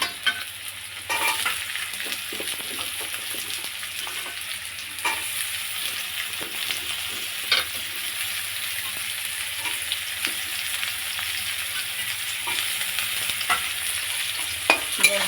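Potatoes sizzle steadily in a hot pan as a spatula stirs and scrapes them in repeated strokes, close and continuous with no talking.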